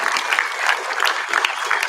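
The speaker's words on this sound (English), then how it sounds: "Clap it up if you agree with me." Students at a school assembly clap together in a sustained burst of crowd applause, many hands close and loud, filling the full moment without talk.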